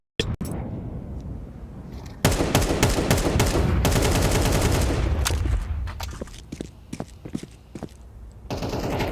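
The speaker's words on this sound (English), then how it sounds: "It's going to be from Akazi, pistols on everybody." Rapid gunfire in a Counter-Strike match between NAVI and G2, an ESL Pro League professional game, with loud bursts of shots in dense volleys, then sparser single cracks spaced out toward the end.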